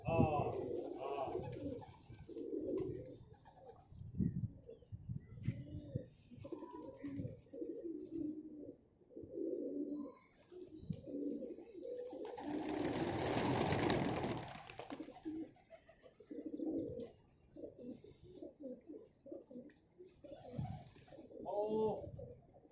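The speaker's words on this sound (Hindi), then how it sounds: "और अब ये कबूतर आता है" Pigeons coo softly at a rooftop pigeon loft, with low murmuring calls repeating under steady nearby talking, and a louder burst of flapping or rustling noise midway through.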